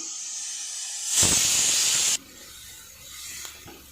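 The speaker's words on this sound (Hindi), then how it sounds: "यहाँ पे हमारी चिकन बॉईल हो रही है।" Pressure cooker boiling chicken on the stove, a loud rushing hiss of venting steam lasting about a second, then cutting off abruptly and leaving a quieter background.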